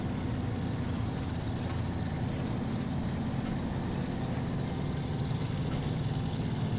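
A Fleetstar truck in SnowRunner drives on with a steady, low engine drone, continuous and close, with no change in pitch and nothing else over it.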